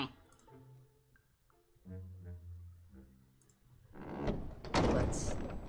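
A catacombs crypt door in the Hero-U video game grinds open after a stretch of low ambient tones, swelling into a loud, broad scraping rumble that builds toward the end, with no talking.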